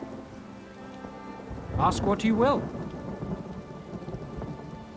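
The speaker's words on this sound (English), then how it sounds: "I could do without this damnable rain. It's been storming since we arrived," Steady rain and thunderstorm ambience in The Elder Scrolls Online, a fantasy role-playing game, hisses continuously under a brief spoken line from a character in the middle.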